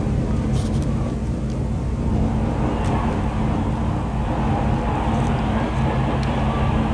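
Onboard engine of a Ford Fiesta rallycross car in Dirt Rally 2.0, a dense, steady engine drone holding a constant loud level throughout, with a few faint ticks on top.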